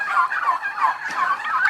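A turkey gobbles in rapid, warbling bursts, several rolling calls close by and fairly loud, with no voices.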